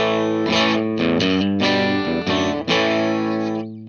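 An electric guitar played through an amp simulator with distortion rings out heavily saturated chords in a short riff of several stabs and sustained notes, close and loud, the last chord fading away.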